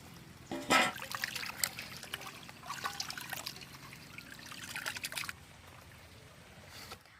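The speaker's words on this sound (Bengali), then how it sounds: "মাংসটা জল দিয়ে ভালো করে ধুয়ে নেব।" Raw country chicken being rinsed with water in a home kitchen, with splashing and trickling that rise and fall in uneven bursts, most active in the first five seconds, then quieter handling.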